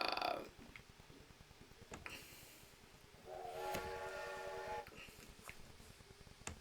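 Train running in the Rollercoaster Tycoon video game, a faint rapid clatter of wheels with brief hissing bursts and a whistle-like tone, heard quietly in the background.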